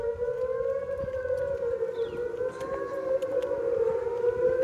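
A Thunderbolt 1000 civil defense siren wails in a steady, sustained tone from a distance, fairly faint and unbroken over outdoor background noise.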